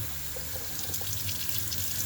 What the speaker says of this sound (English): It helps a lot to soak the skewers in water.